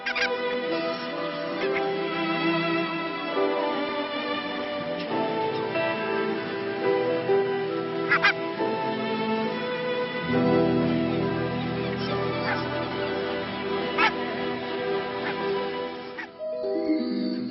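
Migrating wild ducks and geese, mallards and snow geese, call in a dense flock, overlapping honks and quacks rising and falling continuously, fairly loud and close, with a swelling rush of sound in the second half.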